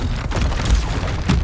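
The Expelliarmus spell is cast in the video game Hogwarts Legacy as a brief, loud, booming magical blast with a dense low rumble and a quick second burst.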